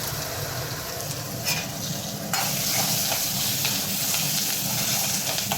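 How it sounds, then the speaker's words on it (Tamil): Curry leaves sauté in hot oil in a pan, a steady close sizzle and hiss with occasional stirring scrapes, no one speaking. "கருவேப்பிலை இது ரெண்டும் கொஞ்சம் வதங்கட்டும்"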